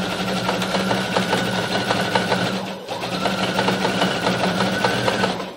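Overlock sewing machine stitching jersey fabric, running with a loud, close, even buzzing chatter that stops briefly midway and then resumes at the same steady pace.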